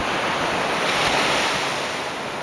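Ocean surf washing up on a beach at sunrise, a steady loud broadband wash of breaking waves with some wind rumble, no talking.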